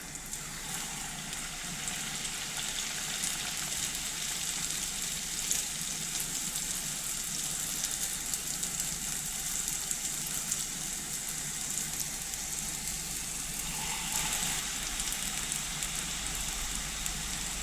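Kefir-dough khykhli pastries frying in hot oil: a steady, dense sizzle and crackle that runs unbroken throughout, with no voices.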